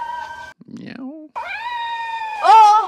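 A kitten meows in a barn in the middle of a town, with a few drawn-out, wavering cries separated by short gaps, close and clear.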